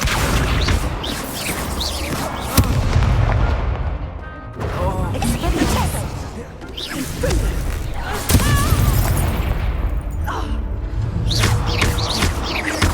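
Hogwarts Legacy video game combat with repeated Incendio fire spell casts, dense bursts of crackling whooshes and booms layered over music and character voice lines, loud and continuous with brief lulls.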